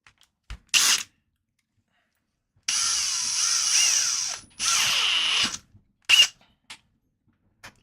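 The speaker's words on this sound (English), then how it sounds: "We're going to drill a pilot hole for all of these first." A small power drill whirs in short bursts, drilling pilot holes for a toolbox boombox build, two longer high-pitched runs between brief clicks and pauses, close by.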